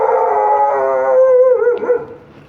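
A dog on a night street in Odesa lets out a long, wavering howl that bends upward and breaks into a short bark-like yelp near the end, fairly close and loud with no talk over it.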